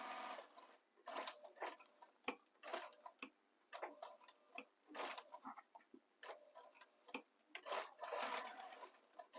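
A sewing machine stitches slowly around the curves of a fabric bag, running in short bursts of rapid ticking with brief pauses between runs, close and fairly quiet.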